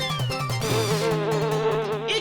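Bees hum steadily around a beehive, a dense close buzzing drone with wavering pitch and no talk.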